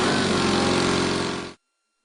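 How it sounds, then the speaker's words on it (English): A diesel engine running at high idle during fuel system air bleeding, a steady, loud, even drone that cuts off abruptly after about a second and a half, followed by silence. "Start and operate the engine at high idle."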